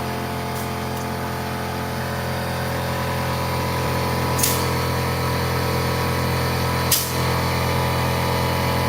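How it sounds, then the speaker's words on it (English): An air compressor runs continuously in a garage-like setting, giving a steady, even mechanical drone with a constant hum, broken only by a couple of short hissing clicks. "There's the air compressor."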